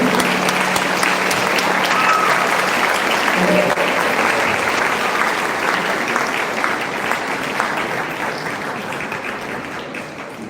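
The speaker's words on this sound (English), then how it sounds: "Big round of applause, ladies and gentlemen." Loud, dense audience applause for a school's graduating class at an international school event in Japan, a continuous roar of clapping with some voices mixed in, gradually easing toward the end.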